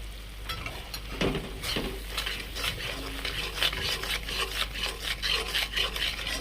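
A spice paste for a vegetarian cauliflower dish is stirred and sautéed in a pan. Steady scraping and rubbing strokes sound over a low, continuous sizzle, close and fairly even, with no voices.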